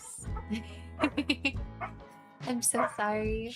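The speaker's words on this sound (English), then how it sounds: "Sorry about the puppies." Puppies yip and whimper in short bursts close by, mixed in and overlapping with a person speaking apologetically throughout.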